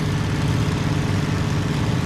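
In the Cliffs of Dover flight combat game, a Hurricane fighter's engine hums in a low, steady drone after the throttle is pulled back, with no speech over it.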